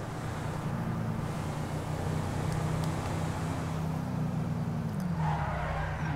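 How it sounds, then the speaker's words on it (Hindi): A Hyundai i20 slides through a drift in GTA 5, driven with a steering wheel. A steady engine drone runs under a sustained tire skid that holds for several seconds and dips in pitch near the end, with no talking. "हम थोड़ी सी ड्रिफ्ट करने की कोशिश क्या की है"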